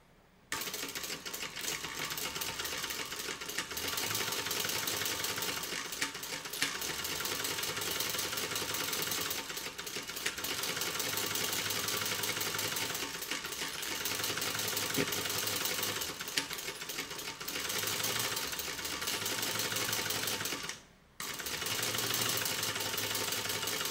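Sewing machine stitching keeper pieces for a designer-style tote bag, a loud steady mechanical whir running nearly continuously with one brief stop near the end, close and with no talking.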